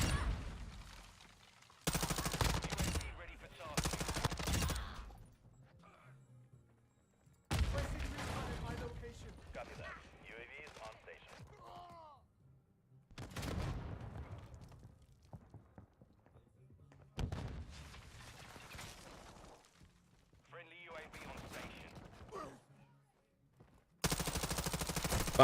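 Light machine gun fire in a video game, several sustained bursts separated by quieter gaps with mechanical clicks and clunks, with a voice talking at times.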